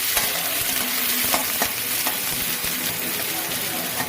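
Ingredients for a tadka fry in hot oil with a dense, continuous sizzle, and a spoon scrapes and stirs through the pan in repeated strokes close by.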